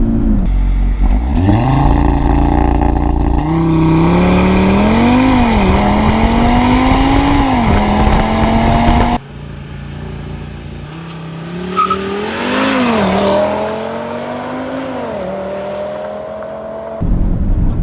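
A stock 2019 Audi RS3 on factory tires launches hard from a standstill and accelerates, its engine rising through gears in loud close revving sweeps with brief drops at shifts, then a lull and a second pull.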